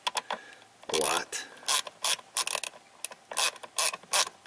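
Hand ratchet tightening a part during a Dodge Grand Caravan heater repair, rapid clicking bursts in irregular runs, close and crisp, with brief pauses between strokes.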